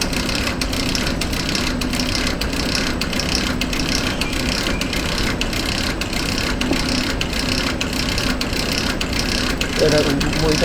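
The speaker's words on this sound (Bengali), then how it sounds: "ইনভার্টার সার্ভো ড্রাইভ রানিং হচ্ছে এবং আমাদের মোটর চলতেছে। এটা হচ্ছে ফরওয়ার্ড রানিং" Delta servo drive motor running forward under PLC control, giving a steady mechanical whir with faint ratcheting ticks, constant and close throughout; no speech heard.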